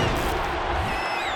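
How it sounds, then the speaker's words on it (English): Stadium crowd in the Madden NFL 23 football video game roaring and shouting during a replay, a loud, dense wash of voices filling the whole short moment. "Shouts from this crowd as they watch the replay."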